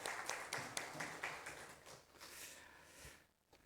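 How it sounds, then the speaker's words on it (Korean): A church congregation at a Sunday morning service claps together in a steady rhythm, quiet and somewhat distant, then the clapping thins out and fades toward the end. "하나님께 영광의 박수 올리겠습니다"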